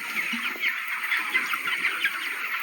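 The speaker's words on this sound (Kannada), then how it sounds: "ಇವೆಲ್ಲ ಕೋಳಿಗಳು" Chickens clucking on a poultry farm of about 4,800 birds, a dense steady chorus of many hens close by, continuous with no talk.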